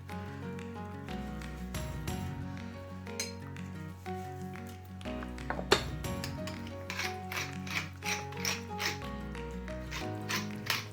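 Quiet, repeated ratcheting clicks of a salt and pepper grinder twisting over onions in a pot for French onion soup, coming in short bursts with faint clinks between them.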